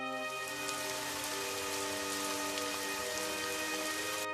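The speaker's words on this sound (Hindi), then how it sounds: "तभी बारिश और तेज हो गई।" Heavy rain falls in a dense, even hiss on surfaces, unbroken and close for the whole stretch, with no voices.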